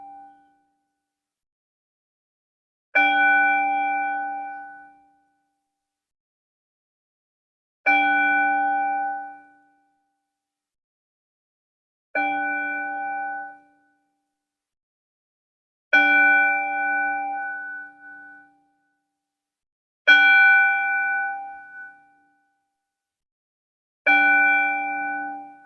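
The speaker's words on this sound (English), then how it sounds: "listening to this bell and follow the sound" A meditation bell is struck six times at steady intervals of about four seconds. Each strike is clear and resonant, rings for a moment and then fades into silence.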